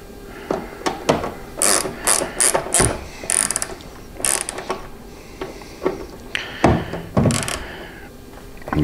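A 10 mm socket ratchet tightens a nut on a motorcycle rider backrest mount, giving loud, close bursts of rapid clicking that start and stop repeatedly with brief pauses between strokes.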